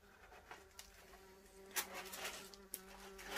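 Wasps buzz around an old coal shed at an abandoned station house, their faint, intermittent drones drifting near and away over quiet background.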